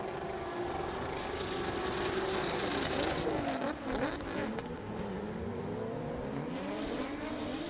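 Jocelyn Janin's drift car at a French Drift Championship round gives off an unusual-sounding engine note, a loud sustained roar with revs rising and falling and a whining pass in the middle, no talk.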